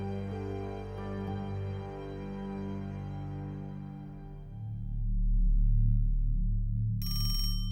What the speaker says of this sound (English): Ben's phone rings